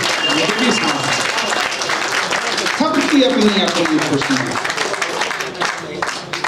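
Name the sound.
audience applause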